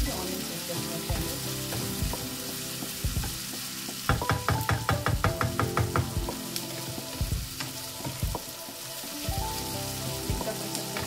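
Onions frying in a pan for garlic gravy: a steady close sizzle with a burst of rapid stirring scrapes around the middle, and scattered clicks throughout, no talk.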